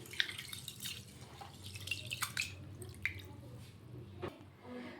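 Rice is washed in clean water for kurdai, with soft splashes, drips and sloshing in quiet irregular bursts, close by and fairly faint.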